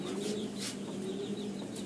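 Chickens at a poultry farm that also keeps pigeons cluck softly in short, repeated calls, faint and somewhat distant over a low steady hum, with no one speaking.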